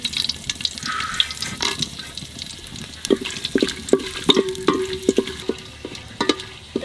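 Dry chillies, bay leaves, cloves and cinnamon frying in ghee, irregular spattering crackles and pops with stirring clatter, nearby and fairly loud, no speech.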